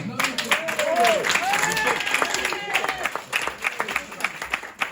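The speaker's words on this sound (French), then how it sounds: "On applaudit Michel" Live audience clapping at a stage show at TNT, with crowd voices and cheering over the clapping, moderately loud and steady before it thins out.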